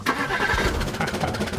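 Trevor the cartoon tractor's engine cranks and catches, then runs as a dense, rumbling motor at close range for under two seconds, with no voices over it.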